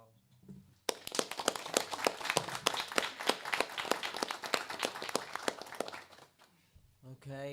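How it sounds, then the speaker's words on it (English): A small audience at a city council meeting breaks into a round of clapping, distinct individual claps that fade out after several seconds, with brief talk before and after. "Let's give him a round of applause."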